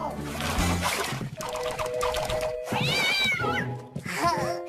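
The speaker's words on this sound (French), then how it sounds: "Non, Nirvana, tu es un méchant chat." A cartoon cat meows and caterwauls in several drawn-out, rising and falling cries, loud and close, mixed with splashing water and other voices in an animated French series.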